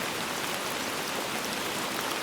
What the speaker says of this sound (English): The rain falls softly outside.